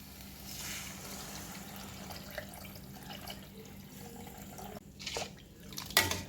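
Tamarind water is poured into a cooking pan of sautéed cashews for brinjal thalicha. Faint trickling and drips build to a brief, stronger splashing pour near the end.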